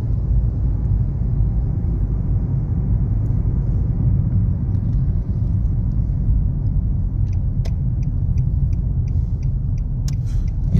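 A car drives along a road during a driving test, heard from inside as a steady, loud engine and road rumble with faint light clicks near the end.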